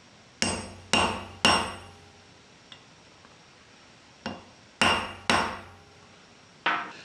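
A sharpened center punch is struck on brass while a cannon barrel is being machined. Seven sharp, ringing metallic hits come close and clear in uneven groups, each decaying quickly, and there is a faint tick between them.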